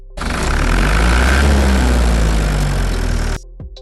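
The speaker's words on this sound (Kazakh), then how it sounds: "Экскаватор." A loud, steady excavator engine runs close by for about three seconds, a continuous low rumbling drone, then cuts off abruptly, leaving a few faint knocks.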